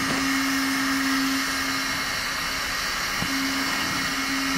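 A hot air gun blows with a constant whooshing roar and a steady high whine, close up and uninterrupted for the whole stretch.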